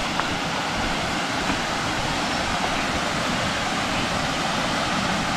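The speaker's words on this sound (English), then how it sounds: "Now it's time to go check out what the waterfall look like." Steady broadband roar of Tshirovha Waterfall, a continuous rushing wash of falling water heard close and loud throughout, with no voices.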